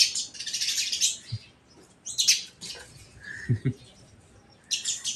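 Sparrows chirp in quick, bright bursts close by, with scattered calls between louder clusters and faint background noise.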